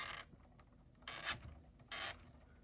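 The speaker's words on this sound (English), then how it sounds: "there's a little knob on the side of the MTT, and when you turn it counterclockwise" Plastic ratcheting and rubbing as the side knob of a Lego Trade Federation MTT (set 7662) is turned counterclockwise, three short bursts separated by brief pauses, close and moderately loud with no talking.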